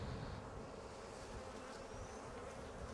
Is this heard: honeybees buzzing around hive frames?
yes